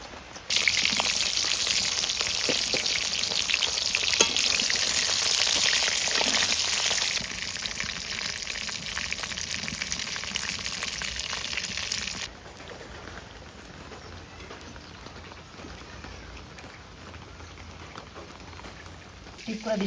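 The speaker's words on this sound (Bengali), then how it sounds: "এখন আমি পটলটাকে একটু ভেজে নেব।" Pointed gourd (potol) frying in oil in an outdoor kitchen while rain falls, a loud, dense sizzle for about twelve seconds that then drops to a softer, quieter frying hiss.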